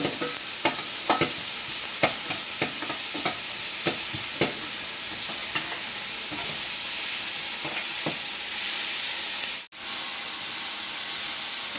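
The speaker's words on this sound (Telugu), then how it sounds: "ఇది ఆనియన్ వేగుతూ ఉంది." Onions sizzling in a hot pan, a constant hiss broken by intermittent clicks of stirring, ending in a brief dropout near the end.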